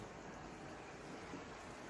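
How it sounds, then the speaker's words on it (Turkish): Steady broadband rush of a stream flowing below an outdoor spot, a continuous, even water noise with no distinct events or voices. "Su sesi aşağıda dere akıyor."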